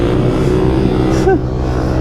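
A motorcycle engine runs loudly and steadily up close as the bike is ridden for wheelies, with one brief rising-and-falling rev about two-thirds of the way through.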